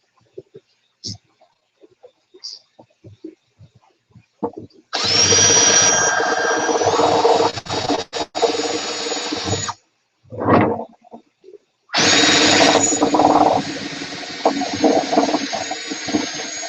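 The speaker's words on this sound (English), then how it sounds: "We'll try it with this drill bit." A power drill running a drill bit in a budget aquaponics setup, whirring loudly in two long bursts with a short burst in between, plus scattered quiet knocks and handling sounds.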